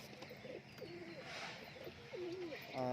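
Pigeons coo softly and faintly in a coop, a few low rolling calls repeating over a quiet background hiss.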